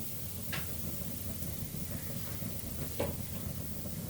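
Sliced onion fries in hot oil for a fish curry with taro leaves, a faint, steady sizzle and hiss with a couple of soft stirring scrapes.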